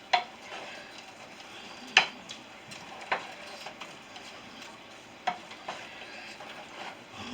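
Brussels sprouts and prosciutto tossed in a pan while cooking, a soft sizzle under scattered clinks of utensil against pan, several distinct knocks spread across the stretch.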